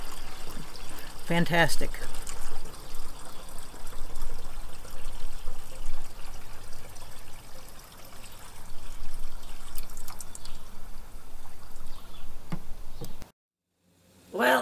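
Water pours through a DIY urine-separating toilet in a continuous trickling splash that runs under occasional talk and cuts out briefly near the end.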